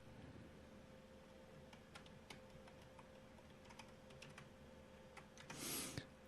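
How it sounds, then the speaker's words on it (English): Quiet, near clicks of a computer keyboard as a password is typed, an irregular run of light taps ending in one heavier key press followed by a brief rustle. "The password you created during the install, you have to type in that password"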